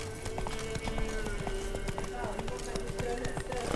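Hooves of the horse Roach galloping in The Witcher 3, a quick, steady clip-clop rhythm close by over game ambience and background music.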